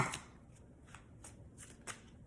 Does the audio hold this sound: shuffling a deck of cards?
yes